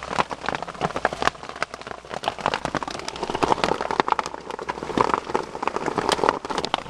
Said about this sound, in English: The hail.